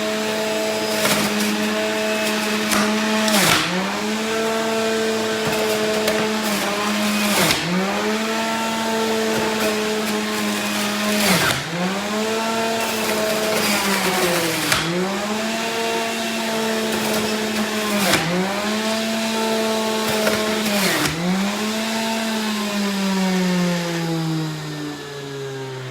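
A Breville juicer runs loudly for the whole stretch, a strong motor whine that dips and recovers in pitch again and again as produce is fed in, with a slow spin-down at the end.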